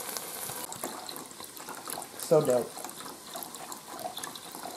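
Chicken broth pours into a Ninja Foodi pot, a steady liquid splash under kitchen clatter, with a brief gurgle midway; people chat over it.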